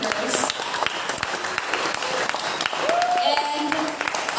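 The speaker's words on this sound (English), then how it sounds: "can we do a round of applause to all our speakers" An audience at a Nerd Night event claps for the evening's speakers, a dense, steady patter of applause with some speech-like sounds mixed in.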